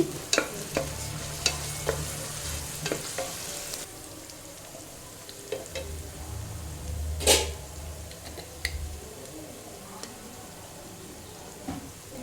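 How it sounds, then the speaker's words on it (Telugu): A spoon stirs ginger garlic paste into chicken sizzling in a pan for chicken 65 biryani, with scraping clicks and strokes over a steady frying hiss, close and fairly quiet. "ఒక టీ స్పూన్ అల్లం వెల్లుల్లి పేస్ట్ వేసి బాగా కలుపుకోవాలి"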